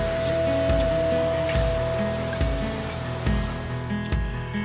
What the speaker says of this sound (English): the crashing waves drown out the chaos of the real world